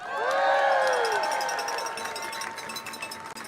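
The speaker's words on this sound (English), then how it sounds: "you should give yourselves a round of applause for that." A rally crowd supporting release of the Mueller report whoops and cheers loudly, then breaks into scattered clapping as the shouts fade, all carried on a reverberant outdoor wash of many voices.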